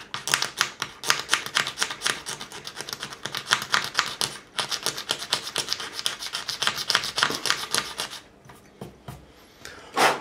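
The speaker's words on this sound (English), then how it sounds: "And we are going to scrape with the grain." A Stanley blade scraping super glue off the fingerboard of a left-handed Gibson Les Paul Standard, following the grain in quick repeated rasping strokes, close and dry, with a short pause midway and the strokes fading near the end.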